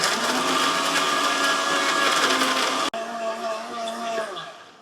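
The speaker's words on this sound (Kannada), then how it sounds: "ಈಗ ಇದನ್ನ ಮಿಕ್ಸಿ ಮಾಡೋಣ." A mixer grinder grinds dry bajji stuffing chutney at a Davanagere-style mirchi bajji stall in Mysuru, a loud steady whirring drone that cuts off abruptly and restarts, running close up without a break.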